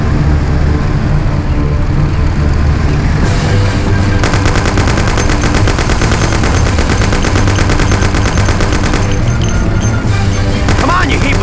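A Thompson submachine gun rattling off long, continuous automatic bursts in the game Mafia, loud and dense, layered over engine noise and other gunfire, with voices talking briefly through the shooting.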